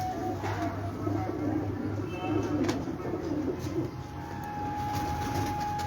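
An old favourite pigeon coos low and steadily near a rooftop loft, partly under a voice, with a few faint chirps mixed in.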